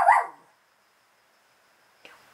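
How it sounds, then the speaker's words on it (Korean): A fierce little dog gives one sharp, close bark at the start, then the scene falls almost silent apart from a faint brief noise near the end. "아주 사나운 강아지지요."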